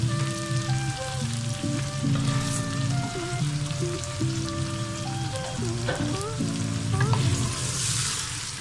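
Meat sizzles steadily in hot oil while garlic, ginger and tomatoes go in for a spinach and turnip gosht, a continuous bright crackle and hiss beneath steady background music, with no speech.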